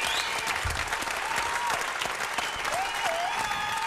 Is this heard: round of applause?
yes